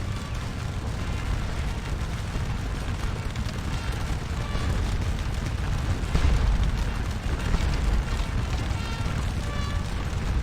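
Artillery fire in the Scourge of War battle game, French versus Prussians: a continuous loud, dense rumble of booming cannon shots and blasts with no clear gaps.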